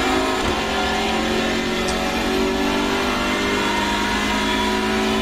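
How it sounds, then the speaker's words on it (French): A Hyundai Veloster N TCR race car's turbocharged inline four-cylinder engine drives hard in the iRacing simulator, a loud, continuous buzzing engine tone sustained at high revs with no voices. "je vous laisse écouter le son de ce 4 cylindres en ligne turbo compressé"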